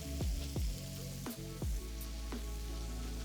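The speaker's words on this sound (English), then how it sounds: "we're going to just gently place our swordfish into the pan. You can hear it searing away." Swordfish fillets sear in a hot pan, a steady close sizzle broken by several soft thuds and clinks as the pieces are set down and the pan is handled.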